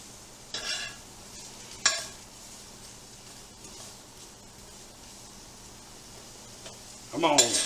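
Swiss chard sautés in a pan on a stove that is still heating, a faint, low sizzle with a few sharp utensil clinks and a louder burst of frying at the end.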